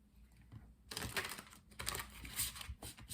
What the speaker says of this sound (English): Let's continue by doing some shuffling so we can pull 7 tarot cards